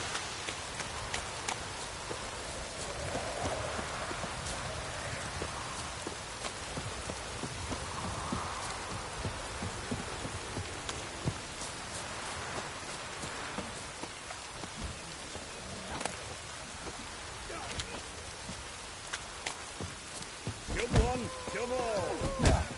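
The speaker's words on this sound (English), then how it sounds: "looks like rain. Oh, it's drizzling." Light drizzle in The Witcher 3: Wild Hunt makes a steady, even hiss and patter of raindrops for the whole stretch, with faint hoof-like clops and a brief voice near the end.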